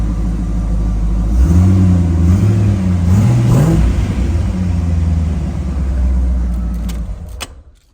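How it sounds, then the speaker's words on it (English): A 5-litre Holden VT Clubsport V8 with a new exhaust is revved twice in quick succession, rumbling loud and close, then settles to a deep idle before shutting off abruptly. "Let's just give it a quick rev."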